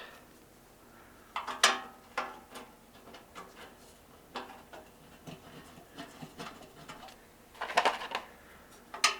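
Pontiac engine oil pan bolts being tightened by hand, with scattered light metallic clicks and ratchet-like ticks coming in irregular bursts, fairly close but quiet against a low background.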